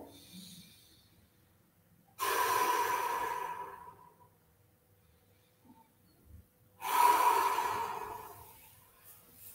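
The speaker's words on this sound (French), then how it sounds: "J'inspire par le ventre." Slow, deep belly breathing during a gentle yoga twist, two long airy breaths separated by quiet pauses, close and soft with no talk over them.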